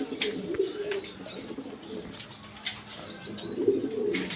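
An Afsan Giriz pigeon pair coos softly in repeated throaty phrases, with a few faint chirps from other birds in the background; the birds are close and fairly quiet.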